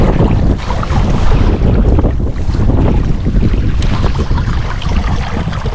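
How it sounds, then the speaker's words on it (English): Strong wind gusts over the microphone beside a river where someone is fishing. A loud, continuous roaring buffet fills the whole stretch with no pauses. "Quite windy. It's very difficult to cast now."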